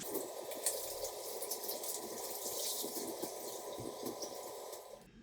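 Tap water runs steadily during handwashing in a home kitchen, a faint, continuous rushing flow that cuts off abruptly at the end, with no talking.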